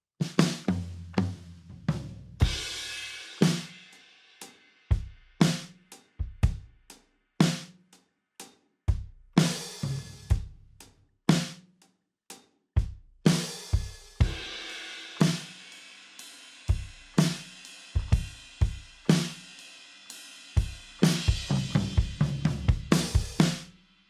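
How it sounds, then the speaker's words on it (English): A warm, punchy indie folk drum kit from a Logic preset plays a loose groove of kick, snare and cymbal hits, struck softly and evenly, ringing alone without talk. "I really just wanted to capture kind of an all-around good indie folk drum sound"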